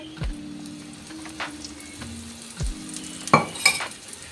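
Beetroot cheela batter sizzles gently in oil on a tawa over low flame, a soft steady frying hiss broken by a few scraping stirs and clinks near the end, no voices.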